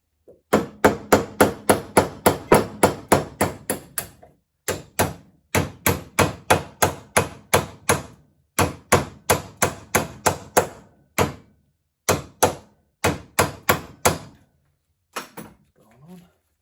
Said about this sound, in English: Use a socket to drive it on.